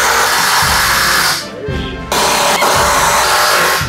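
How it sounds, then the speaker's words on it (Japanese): A long drill bores pilot holes into the long side of 2x4 lumber while a camper is framed on a kei truck, whining steadily and loud up close, dipping briefly mid-way before surging back. "2×4 の長い辺に打つので長いドリルで下穴を開けております"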